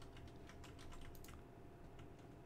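Steady, rapid computer keyboard typing runs throughout during a Halo 2: Anniversary multiplayer match, continuous close clicking with game sounds underneath.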